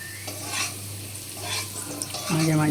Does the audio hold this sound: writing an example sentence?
no